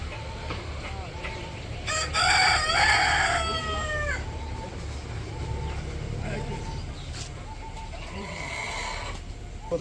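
Village chickens at evening feeding time, with a rooster crowing loudly and nearby hens clucking intermittently over a low background hum.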